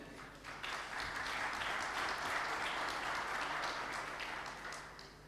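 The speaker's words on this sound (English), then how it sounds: "a thunderous round of applause for them." Sustained applause from a conference audience at a pulses industry conclave, steady and fairly distant, swelling quickly and then tapering toward the end, with no voices over it.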